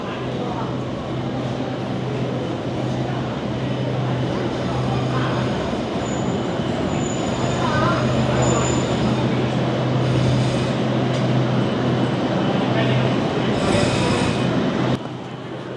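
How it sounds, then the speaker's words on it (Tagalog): Steady rumble and rolling clatter of an old train running toward Kamakura, Japan, heard from inside the carriage, continuous and fairly loud throughout with a low hum and occasional faint squeals, people speaking over it. "We're now riding the train."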